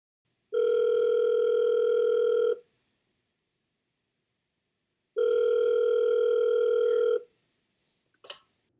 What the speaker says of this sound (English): Unable to meet in person, Kimberly Coffey schedules a phone call with Linda to discuss her mother's case.